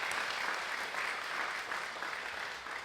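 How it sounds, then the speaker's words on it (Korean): A church congregation claps to congratulate newly installed elders and deaconesses, a sustained, moderately distant wash of applause that holds steady without speech. "우리 성도 여러분도 마음을 다하여 박수로 한번 축하를 드리죠"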